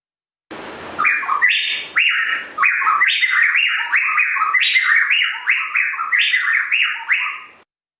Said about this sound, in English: here's a video of the two birds duetting when they each have electrodes in